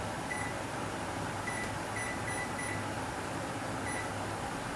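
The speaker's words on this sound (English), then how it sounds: "And we'll set the timer" An oven timer, set for a 350-degree oven, gives a series of short, faint electronic beeps, single and in quick clusters, over a steady kitchen hum.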